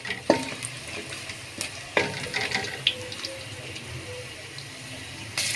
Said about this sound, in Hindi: कड़ी पत्ता डाल देंगे, ज़ीरा डाल देंगे इसमें। 1-2 मिनट इसे अच्छे से पकाएंगे।